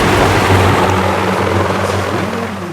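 Heavy choppers in the mobile video game Boom Beach roar with a loud, dense helicopter rotor drone, steady and continuous with a low throbbing pulse that fades slightly toward the end.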